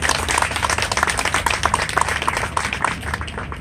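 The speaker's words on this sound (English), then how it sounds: "That's when you should applaud right there." Audience applause at a mayoral campaign announcement for Pete Bass in New Milford, Connecticut, a steady dense patter of many hands clapping throughout, moderately loud and unbroken.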